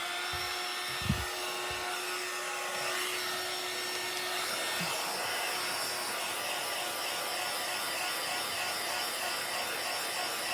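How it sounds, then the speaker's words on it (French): Constant loud whirring blast of a heat gun used for heat embossing, running close by, with a couple of brief knocks early on and no talk. "Et là, je vais embosser à chaud."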